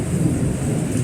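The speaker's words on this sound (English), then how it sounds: "That was a big thud of thunder there." A loud, close, continuous roll of thunder rumbles deep and heavy during a storm, with rain hissing underneath.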